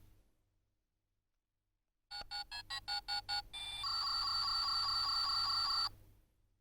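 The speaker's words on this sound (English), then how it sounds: "that's of course a dial tone" After silence, a short run of electronic beeps pulses quickly, then a steady held tone sounds for about two seconds before cutting off.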